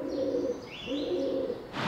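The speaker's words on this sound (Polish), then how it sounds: "Już widzimy jakieś pierwsze lecące akurat gołębie miejskie." Feral city pigeons on a winter bird count in Warsaw, heard as a few clear cooing calls close by, with a brief burst of noise at the very end and no talk.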